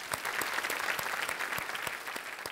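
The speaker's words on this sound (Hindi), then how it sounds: "पंकज जी, बहुत बहुत तालियों के साथ हम आपका स्वागत करते हैं।" Studio audience on a television quiz show claps warmly to welcome a contestant, a dense steady round of many hands with sharp individual claps standing out, sustained throughout without speech.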